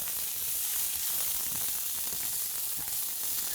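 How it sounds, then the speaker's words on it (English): Food sizzles in a hot pan, a close, steady bright hiss of frying broken by faint scrapes and shifts as it is stirred and tossed, with no talking. "So occasionally we can just, give these a stir. If you can toss them,"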